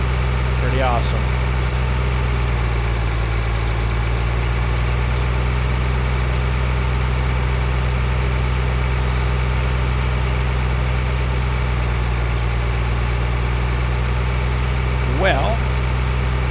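A farm tractor engine in the video game Farming Simulator 2013 drones steadily and loudly for the whole stretch, a constant low rumble that sounds like idling, with no clear speech over it.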